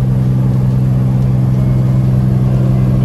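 A steady, loud engine drone with a low, even hum, heard while climbing a mountain road with small cars passing. No voices are heard over it.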